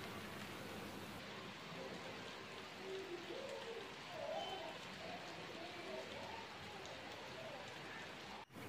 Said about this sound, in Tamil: வெளியில் பார்த்தீங்கன்னா நான் நினச்ச மாதிரியே மழை வந்துருந்துச்சு